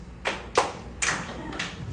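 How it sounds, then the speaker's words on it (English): A few separate single hand claps from an audience, scattered and not quite together, ring out at close range over a quiet room. "Clap your hands once."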